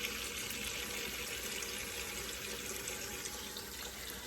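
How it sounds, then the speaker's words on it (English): Tap water runs steadily into a large canner pot being filled, a constant quiet rushing and splashing stream for a few seconds with no talk. "I'm gonna fill that with water"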